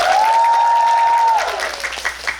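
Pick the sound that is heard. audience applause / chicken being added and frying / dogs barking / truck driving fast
audience applause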